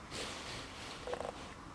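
A pet cat purrs softly up close, a low steady rumble running through the short stretch with a slight swell near the end.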